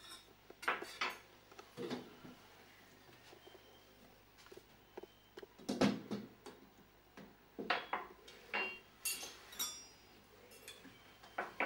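Metal spoon clinking against a wooden bowl as an old man eats at a table, scattered light taps and scrapes at an uneven pace, fairly close, with some footsteps and shuffling but no talk.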